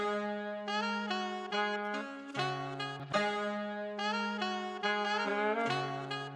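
Jazzy chopped sample with a deja vu effect and reverb, clean tonal chord stabs switching rhythmically between pitches, smoothed by a soft wash of tail in the background, moderate level and without any voices.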